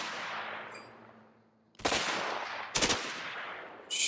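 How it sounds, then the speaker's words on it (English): Gunshots are fired at empty houses in the video game A Way Out, with two loud, sharp bursts and a third starting at the end, each followed by a ringing decay. "Try shooting at those empty houses."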